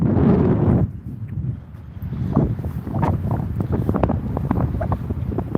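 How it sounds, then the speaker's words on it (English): Heavy wind buffets the microphone in a steady low rumble, with a brief lull before gusts return alongside faint background clatter. "Try and block out some wind, Curtis."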